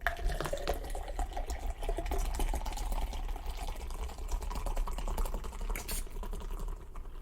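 Liquid pouring from a can splashes and patters steadily into a filling container, a continuous close, busy trickle and spatter at moderate volume without speech.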